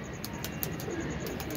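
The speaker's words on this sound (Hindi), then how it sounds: "तो शानी भाई जो हैं नीचे गए हुए हैं, वो देखें जी फुल टाइम एंजॉय कर रहे हैं कबूतरबाजी का" Pigeons coo softly at a rooftop pigeon loft, faint and somewhat distant, under a steady hiss of outdoor noise and a few high chirps, with no talking.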